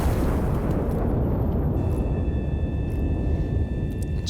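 A big turret gun in a video game fires with a heavy, sustained low rumbling blast that stays loud and dense across the whole stretch, with no voices.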